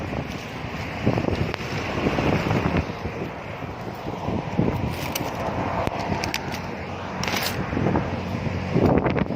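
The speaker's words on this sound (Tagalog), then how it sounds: "Taas ng hangin." Strong wind buffets the microphone in continuous gusts on the Iloilo City Esplanade waterfront in rain, with a low rumble and some water or boat noise underneath; no talking.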